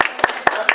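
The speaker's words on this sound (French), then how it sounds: "bonne applaudissement" Sparse, scattered clapping from a few people at a municipal council meeting in Sainte-Marie-Madeleine, four distinct claps spaced evenly in a quiet room.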